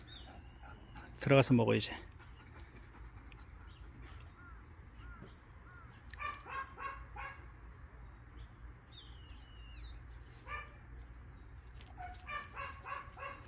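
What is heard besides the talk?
dog barking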